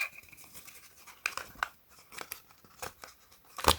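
Plastic and paper packaging of a Supreme x Timex digital Indiglo watch crinkling and tearing as a black tie is unwrapped, with scattered close rustles and a sharp snip-like burst at the end.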